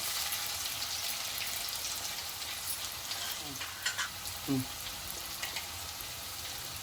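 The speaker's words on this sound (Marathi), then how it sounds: "आता आपला कांदा चांगला परतला आहे" Chopped onion fries in oil in a pan, giving a soft, steady sizzle at low level, with a few brief scraping stirs near the middle.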